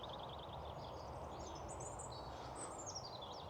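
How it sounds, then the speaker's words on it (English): Faint birdsong drifts from a line of trees in a quiet outdoor setting: a few thin, high chirps and trills come and go over a soft, steady background hush, with no voices. "that's where the bird song is coming from"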